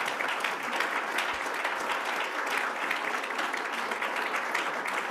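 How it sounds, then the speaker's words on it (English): An audience at an IAA council meeting in Brussels claps steadily, a dense, even wash of many hands sustained throughout without pause. "I find it very nice that you're clapping"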